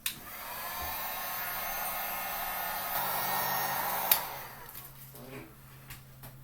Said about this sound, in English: I got a heat gun, going to put it on low, give it about 15 seconds.